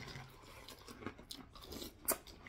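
Someone chews a crunchy eggnog-flavored snack close up, with faint irregular crunches and soft mouth clicks, one sharper bite standing out, quiet and without talking.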